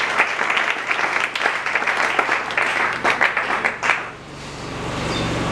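A church congregation applauds during a sermon, a sustained, fairly loud wash of many hands clapping that fades toward the end into a quieter room tone.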